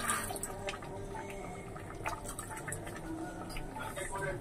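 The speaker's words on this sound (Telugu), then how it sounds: "ఇప్పుడు లాస్ట్లో కొంచెం చింతపండు పులుసు వేసుకోవాలండి" Tamarind juice poured into a pot of goat head curry near the end of cooking gives a steady, moderate trickle of liquid with soft drips over faint kitchen background.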